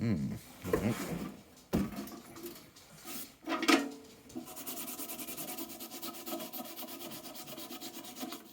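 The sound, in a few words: scratching paint off a wooden top box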